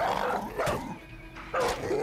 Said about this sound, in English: The dog was whooping my ass.